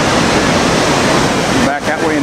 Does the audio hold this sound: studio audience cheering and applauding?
no